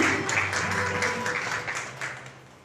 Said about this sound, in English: Please give a very big round of applause to Preet Hemiraj Bhati.